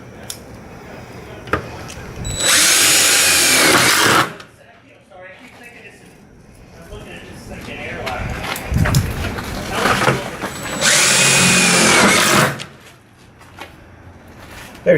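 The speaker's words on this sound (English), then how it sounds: "Use a number 12 1-inch self-drilling screws." A power drill drives number 12 one-inch self-drilling screws into a bus's bottom rib, two loud sustained bursts of whirring, each about two seconds, separated by quieter handling noise and talk.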